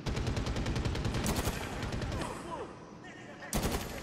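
Gunfire in the video game Medal of Honor Warfighter: rapid automatic bursts crackle up close, ease into a quieter pause, then a fresh loud burst erupts near the end.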